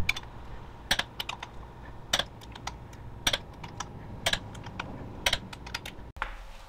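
A torque wrench tightens the clutch bolts on a Weddle S4D transaxle upgrade with a Centerforce DYAD clutch. Close, crisp ticking clicks repeat in regular clusters, and there is no talk.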